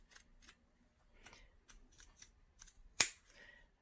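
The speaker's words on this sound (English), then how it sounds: "Now I'm going to trim around the outside of the seam allowance using my pinking shears." Pinking shears trim the fabric seam allowance of a flat cap for a memory bear in a series of soft, close snips. One sharp, louder cut lands near the end of a quiet stretch.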